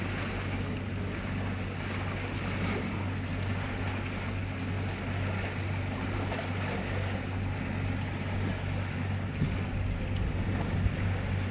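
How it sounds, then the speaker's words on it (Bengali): A large ship passes through the middle of the Ganges at high tide. A steady low engine drone sits under continuous wash of water and wind, holding an even loudness throughout with no voices. "গঙ্গার মাঝে একটা বড় জাহাজ মতো যাচ্ছে।"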